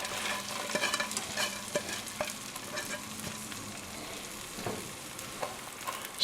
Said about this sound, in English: So the butter is melted. Just toss the rice in.